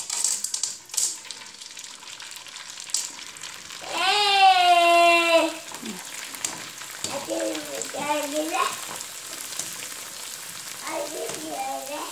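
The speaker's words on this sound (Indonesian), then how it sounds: "menggoreng kerupuk jengkol ya" Jengkol crackers fry in oil over medium heat, giving a steady soft crackle and sizzle throughout, with a voice heard intermittently over the frying.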